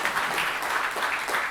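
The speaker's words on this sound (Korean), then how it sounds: "홍문표 의원님께 큰 박수 좀 부탁드리겠습니다" A brief burst of audience applause for a speaker at a National Assembly policy forum on rice prices and food sovereignty, with a full crowd clapping steadily for about a second and a half.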